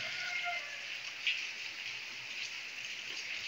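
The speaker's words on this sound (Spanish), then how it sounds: "toda la noche estuvo lloviendo y está lloviendo." Steady rain falls outside in the early-morning darkness after raining all night, a soft continuous hiss of drops with no pauses, fairly faint and heard alone.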